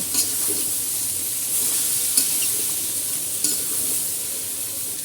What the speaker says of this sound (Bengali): লবণ দিয়ে দিলাম এবার খুব ভালো করে মিশিয়ে নিব